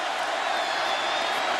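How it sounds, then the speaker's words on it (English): Stadium crowd at a college bowl game roaring in a steady, dense wash of noise, loud and continuous throughout with no distinct claps or voices standing out. "Crowd roaring."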